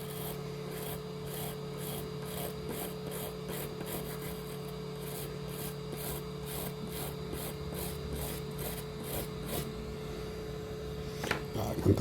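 A steel wire brush scrubs a 3D printer hotend nozzle in quick, rhythmic rasping strokes, close and steady, over a constant hum from a heat gun.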